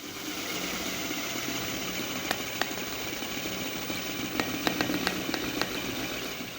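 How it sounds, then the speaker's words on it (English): A drill boring a 13 mm hole through a Porsche 944 strut, a steady droning motor hum with occasional faint clicks, close and continuous. "what we've got to do is drill that hole to 13mm"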